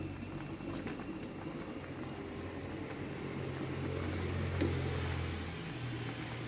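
Thai Isan-style fish curry with tilapia and lotus stems simmering in a pot, a steady low bubbling and rumble that swells slightly midway, heard alone and fairly close.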